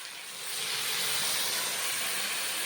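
Water poured into a hot pan of fried spice paste of chilli, ginger-garlic, cumin and pepper pastes for a rohu fish curry with drumstick beans, giving a loud, steady steam hiss that swells after a half-second and holds.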